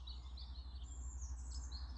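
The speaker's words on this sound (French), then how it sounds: "cette mélodie harmonieuse de chants d'oiseaux qui vont accompagner cette mise en sourire dans ton corps" Birdsong accompanying a guided smile meditation: several small birds chirp and trill in high, quick phrases over a steady low hum, soft and distant-sounding, with no talking.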